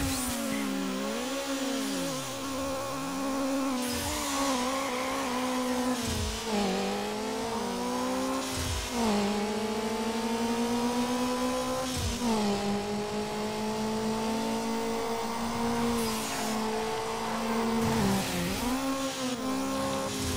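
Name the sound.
VW Golf engine in video game Need for Speed Underground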